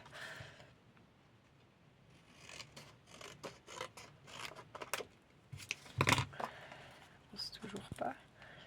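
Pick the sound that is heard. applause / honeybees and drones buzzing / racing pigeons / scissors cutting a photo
scissors cutting a photo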